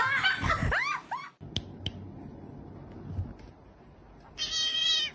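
A cat meows with rising and falling harmonic cries at the start, then quieter rustling and scattered clicks, ending in a loud, sustained yowl or hiss.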